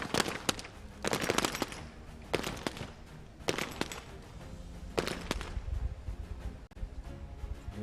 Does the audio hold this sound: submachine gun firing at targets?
yes